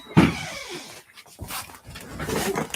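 A dog whimpers and whines softly in short, uneven bursts, close by and fairly quiet, with some rustling handling noise in a home setting.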